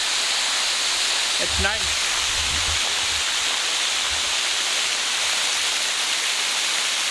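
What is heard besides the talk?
waterfall in Mizoram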